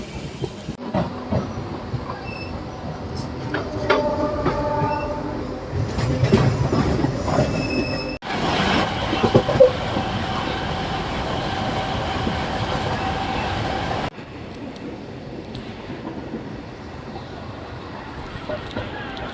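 A MEMU train on the Narasapur–Machilipatnam link runs on, its wheels squealing and carriages rumbling loudly up close, the noise shifting in sections as it slows toward a station.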